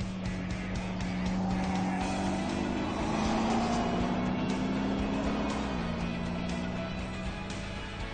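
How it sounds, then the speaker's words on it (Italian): Audi RS TDI concept V6 diesel with Active Sound exhaust, a deep steady drone that rises gradually in pitch as the car accelerates, then drops briefly near the end, loud and continuous with no talk. "Anche grazie al sistema di scarico con Active Sound, che conferisce al V6 a gasolio una sonorità cupa e gradevole."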